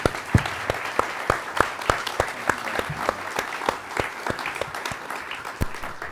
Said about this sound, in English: Big round of applause here for Marco Werman.